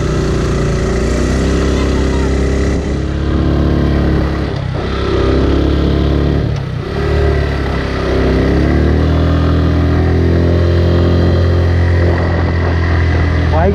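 A motorcycle engine runs loudly and close on a wide new road leading to Kamakhya Temple, a dense steady drone with pulsing rises and dips throughout.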